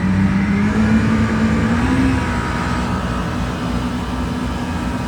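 A 2008 Yamaha 212X wakeboard boat engine throttles up, a loud, steady close drone whose pitch climbs and then holds, with water rush underneath and no talk.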